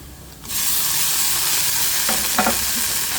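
Onion with ginger garlic paste sautés in a hot pan for a kulambu, a steady close sizzle starting abruptly and holding, with a couple of short scraping stirs of a spoon partway through; no voices.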